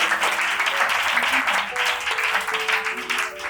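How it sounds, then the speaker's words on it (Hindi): Applause from an audience at a ground-level training programme event, a steady broadband patter of many hands lasting the whole stretch, with faint voices and some tonal background sound underneath. "जोरदार ताली पर इफ्रा मैडम के लिए"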